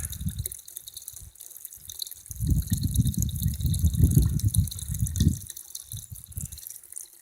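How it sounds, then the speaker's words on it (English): Water running from a tap into a watering trough on a small farm, a steady wet splashing and trickling that swells louder in the middle and continues in uneven bursts, close by with no talking. "Gotta sit here and watch the water come up to make sure that the watering trough doesn't settle and the water goes over the edge instead of down the drain."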